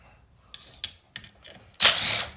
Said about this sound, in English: now we're going to take this valve cover off